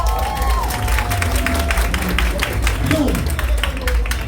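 An audience applauds for a performer at a gathering, loud continuous clapping mixed with crowd noise and cheering throughout, with a voice speaking briefly over it.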